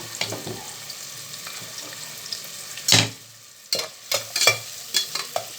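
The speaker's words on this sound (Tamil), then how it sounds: "அதில் வந்து ஒரு நூறு கிராம் வெங்காயத்தை போட்டு வறுத்து வறுத்து எடுத்துக்கலாம்" About a hundred grams of onions frying in a pan for mutton biryani: soft sizzling under repeated scraping stirs of a spatula, with a louder clatter near the middle, close up and with no talking.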